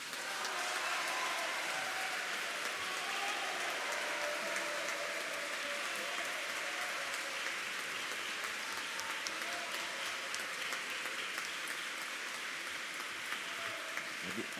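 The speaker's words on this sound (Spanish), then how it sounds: "Aquí hay una verdadera guerra de aplausos." Sustained audience applause after a talk by a doctor, dense and steady clapping filling the whole stretch at an even level, with no voices standing out.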